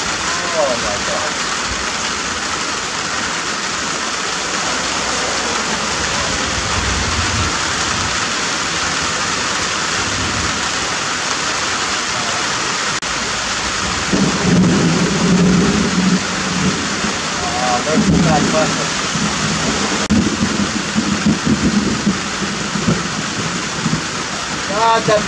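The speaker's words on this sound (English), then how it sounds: "Guys, it is raining. It is raining. Not hard, but it's raining." Rain falls outdoors in a steady, dense hiss that runs through the whole stretch, with a voice talking faintly underneath at times.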